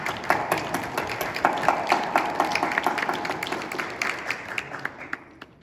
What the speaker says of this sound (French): pense qu'on peut applaudir les papas quand même